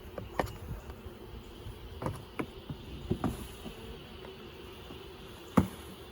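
Honey bees buzz faintly and steadily inside a hive holding many dead bees, with scattered soft knocks and rustles over the low hum.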